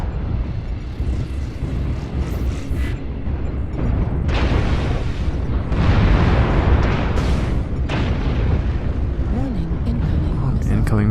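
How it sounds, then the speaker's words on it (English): In the video game MechWarrior Online, incoming missiles hit as a run of heavy booming explosions against a constant rumbling mech-battle backdrop. The impacts swell in the middle of the clip and arrive as loud, overlapping bursts. "Incoming missiles my way."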